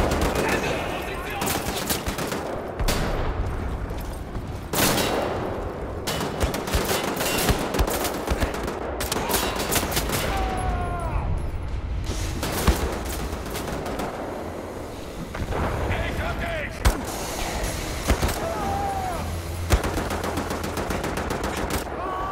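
Gunfire in the video game Wolfenstein: The New Order: near-continuous loud automatic weapon fire and scattered shots over a dense in-game din.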